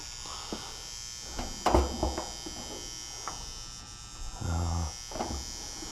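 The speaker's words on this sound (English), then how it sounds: "So the noise seems to be coming from this transformer here." A faint electrical buzz from a garage furnace transformer hums steadily close by, with a few soft clicks and knocks breaking through now and then.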